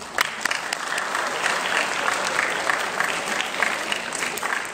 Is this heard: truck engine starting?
no